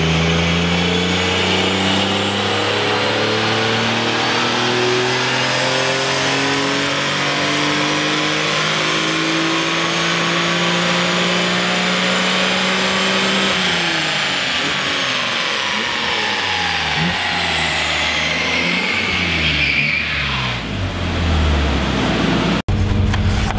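A BMW E46 M3 inline-six revs hard on a dyno, a loud, continuous wail climbing steadily in pitch through the gears before dropping off at the end of the pull.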